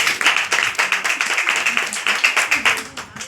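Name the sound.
audience clapping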